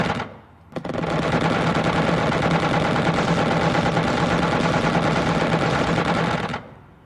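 Aircraft weapons firing in the Xenonauts video game, a loud continuous rapid burst that starts after a short pause and holds steadily for about six seconds before cutting off.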